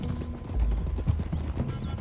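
A horse's hooves clip-clop in a steady, muffled rhythm in the Red Dead Redemption 2 video game, fairly quiet and close, with low rumbling game ambience underneath.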